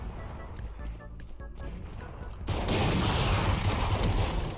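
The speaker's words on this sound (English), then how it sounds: "This is exactly what I meant by getting shot in the back multiple times." Gunfire strikes a player in the tactical shooter Valorant, a dense burst of rapid shots that starts partway through and carries to the end, loud and close behind the player.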